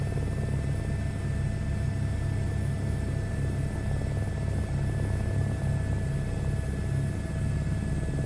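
Steady, unbroken drone of a simulated helicopter in a flight simulator game, a dense low rumble with a faint high whine running evenly throughout, no voices.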